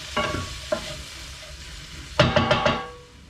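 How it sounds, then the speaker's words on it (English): A utensil stirs prunes through turkey biryani in a frying pan, scraping and knocking against the pan in a few clustered strokes over a low sizzle, close and fairly soft. "I'm going to add the prunes in. And I'm going to stir them around."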